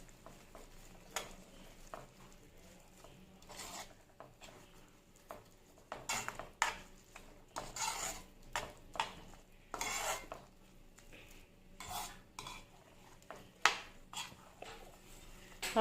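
A spoon stirs masala oats in a pan with faint, quiet scrapes and light clinks that come in irregular short bursts separated by near-silence.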